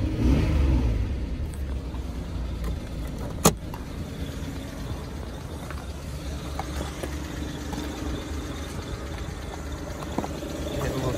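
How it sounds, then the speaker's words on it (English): A 2014 Chevrolet Silverado K1500 Z71 pickup with a slightly ticking engine runs steadily at idle, close by. A steady low engine drone with one sharp click near the start, and no speech. "Motor got a little tick to it."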